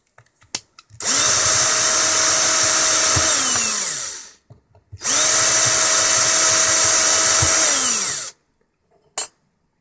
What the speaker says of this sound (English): let's open these out with a 3mm